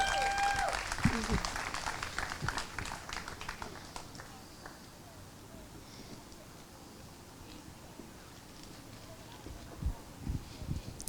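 Applause rings out for students at a town Independence Day gathering, a brisk clatter of clapping that thins out and fades, with a faint return of scattered claps near the end.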